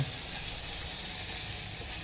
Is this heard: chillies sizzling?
yes